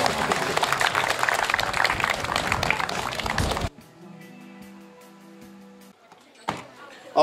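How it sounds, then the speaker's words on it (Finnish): Audience applause at an award ceremony for a running race, Kalkkisten kymppi 2015: a dense crowd clapping loudly for nearly four seconds and then cutting off. A quiet hum and a few faint knocks follow. "ja vielä uudestaan aplodit"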